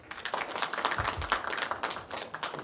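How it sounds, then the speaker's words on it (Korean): Applause at a Korean citizens' regional council meeting welcoming a committee member, a small room of people clapping in a brisk, fairly close patter, with a few low thumps early on. "박수로 맞으시기 바랍니다"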